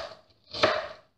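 A knife chops through pattypan squash for a vegetable spread, giving one clear, close cut with a crisp board impact against a quiet kitchen background.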